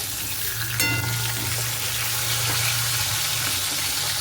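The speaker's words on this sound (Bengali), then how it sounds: "মাছ ভাজা বসিয়ে দিয়েছি এই যে আর শুধু একটা লেজা বাকি আছে ভাজলেই হয়ে যাবে" Fish pieces fry in hot oil in a home kitchen, a dense steady sizzle heard up close with a brief clink of a utensil near the start and no talking.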